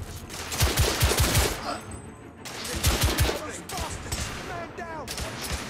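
Booming coach gun blasts in the video game The Order 1886, several heavy shots in quick clusters followed by a second volley, with some gameplay clatter between them.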